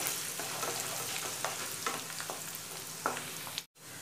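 Finely chopped garlic and ginger fry in oil in a pan, a steady close sizzle with scattered crackles and light stirring scrapes, cut off abruptly near the end.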